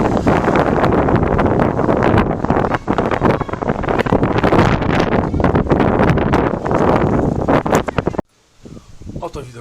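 Steady wind blows hard into the microphone, a loud broadband rush that gusts and buffets continuously, then drops away abruptly near the end.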